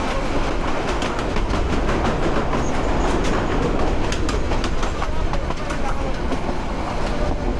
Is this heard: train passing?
yes